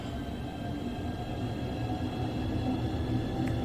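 A Southeastern Javelin high-speed electric train with pantograph raised departs in the Train Sim World 2 game, a steady low rumble and hum heard from outside that builds slightly in loudness, with no talk.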